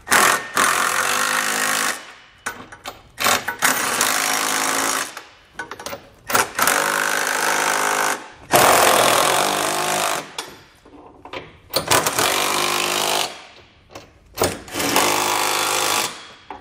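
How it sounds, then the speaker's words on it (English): Bursts of a power tool with a 19 mm socket running hitch bolts tight on a 2020 Toyota Sienna, loud repeated whirring runs of one to three seconds separated by short pauses, no talk. "we can come back with a 19 millimeter socket and snug it all down"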